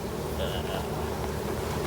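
Honey bees buzz steadily around an open hive during a first look inside at a teen beekeeping class, a dense continuous hum filling the scene at moderate loudness with no talk over it.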